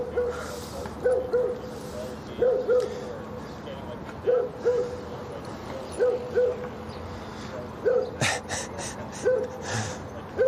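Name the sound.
basset hound barking in a park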